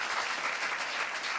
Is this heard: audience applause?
yes